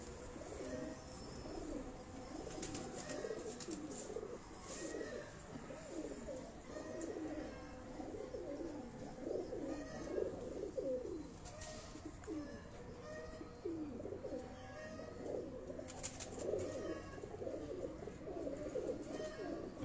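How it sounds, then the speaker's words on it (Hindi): Breeder pigeons coo softly and repeatedly at close range, low rolling calls overlapping throughout with occasional chirps and faint background sounds, no voices. "तो अब जो है उनके ब्रीडर कबूतरों का आप शौक देख रहे हैं।"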